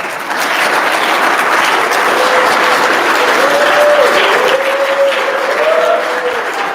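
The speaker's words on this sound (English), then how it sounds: "A round of applause." Sustained applause from a Scout court of honor audience fills the room at steady volume, with a faint voice-like tone drifting through the middle.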